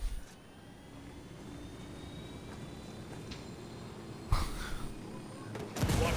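A video game aircraft engine holds a steady roar with a faint rising whine. Bursts of louder noise come near the middle and at the end.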